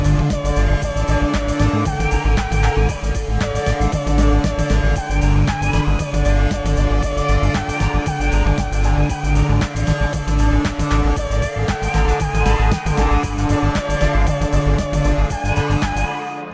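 A transposed vocal sample from Splice is played on a Deluge inside a dense, loud, continuous electronic track. The dark, sinister mix carries heavy low end and steady rhythmic hits throughout, with no talking.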